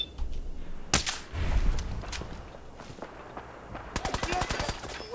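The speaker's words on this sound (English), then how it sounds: "I'm gonna go shoot the other guy and see what he does. This is awesome. This is a great gun." Gunfire in Fallout 4: a sharp single shot, scattered footsteps and movement, then a rapid burst of automatic fire close and loud near the end.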